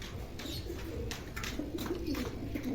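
White Giribaz pigeons from two lofts mixed together coo softly and repeatedly at close range, with low throaty calls rising and falling over steady faint background noise.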